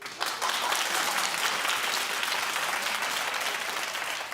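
Studio audience at a daytime talk show clapping together, a full, continuous burst of applause from many hands that starts sharply and holds steady, fading slightly near the end, with no voices over it.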